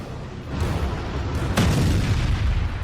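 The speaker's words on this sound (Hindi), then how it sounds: "ईरानी मिसाइलें इजराइल के शहरों पर कहर बरसा रही हैं।" Booming explosions from Iranian missile strikes on Israeli cities, a continuous loud rumble with a sharper blast burst about halfway through.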